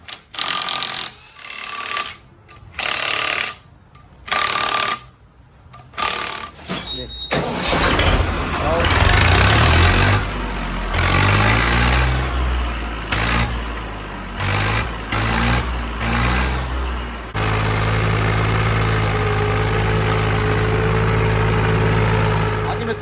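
A 2012-model Swaraj 855 tractor engine starts and then runs loud and steady close by for the rest of the clip. Someone talks in short bursts during the opening seconds.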